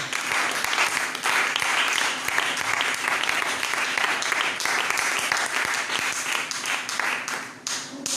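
A church congregation applauding to acclaim the Lord, dense sustained clapping from many hands filling the room for several seconds, loud and even with faint voices mixed in.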